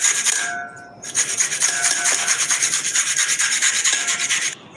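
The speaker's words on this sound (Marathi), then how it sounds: "आता आपण हे बारीक किसून घेऊया इथे असं मी किसणीने किसून घेणार आहे सगळं" Coconut being finely grated by hand on a metal grater, a continuous rough scraping rasp with rapid strokes, loud and close, a short dip near the start and no talking.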